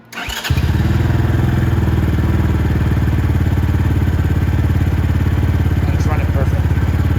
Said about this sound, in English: I wanna see how it starts first and how it runs